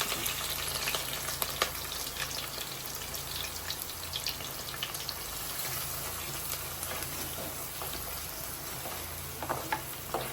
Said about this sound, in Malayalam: ഈ വെളുത്തുള്ളി ഇഞ്ചി പച്ചമുളക് ഇട്ട് കൊടുക്കണം